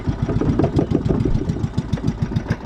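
The old engine of a net-fishing boat chugs loudly and close in a fast, steady rhythm of heavy low pulses throughout.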